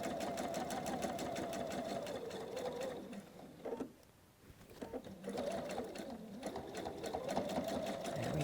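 Sewing machine running steadily as quilt blocks are stitched together in rows, a continuous close whirring hum that pauses briefly midway before resuming at the same pace.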